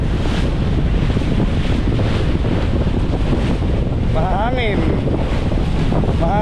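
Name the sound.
wind on a boat crossing to Cebu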